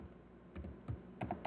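Quiet, close keystrokes on a computer keyboard as a folder name is entered, a handful of soft taps in an uneven rhythm with no voices.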